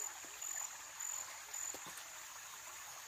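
A small stream flows past a riverbank, making a faint, steady trickle with soft insect chirps above it.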